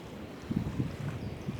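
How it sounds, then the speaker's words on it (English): Wind buffets an outdoor microphone at a Galapagos exercise session, a low rumbling roar with a few soft gusty thumps, steady and fairly faint. "I hope that's not getting noisier for you with the wind"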